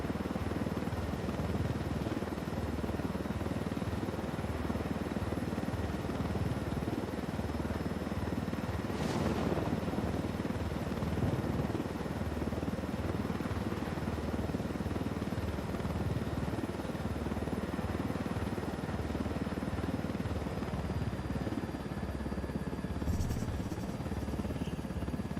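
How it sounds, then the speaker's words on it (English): A big helicopter flying in Tom Clancy's Ghost Recon Wildlands, a continuous droning rotor and engine hum that stays steady at moderate level for the whole stretch, with no talk over it. "It's a big helicopter and it's real easy to clip stuff by accident."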